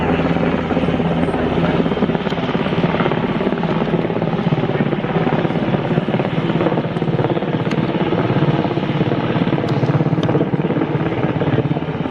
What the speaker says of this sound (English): all of these manoeuvres are a demonstration of tactical applications for this aircraft